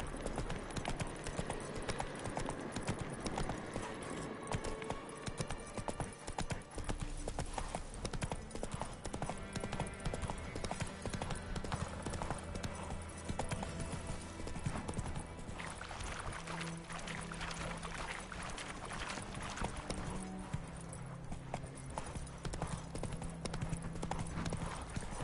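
Hooves of the horse Roach clip-clop in The Witcher 3 video game, a steady rhythmic trot running throughout, mixed with game music and ambient sound.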